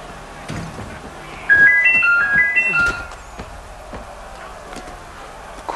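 A phone rings in an Assassin's Creed 3 game scene: a short melodic electronic ringtone of rising and falling beeps plays for about a second and a half amid background game noise.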